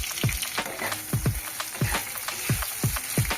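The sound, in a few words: onion frying in a pan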